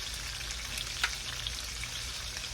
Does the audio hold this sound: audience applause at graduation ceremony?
no